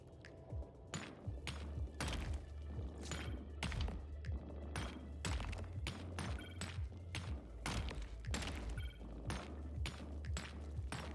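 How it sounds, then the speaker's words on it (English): An auto-firing artifact cannon on a mech in the game Ocean Keeper lets off a quick, even run of muffled thumping shots over a low steady hum, faint and with no voices. "purple is the artifact cannon I picked up,"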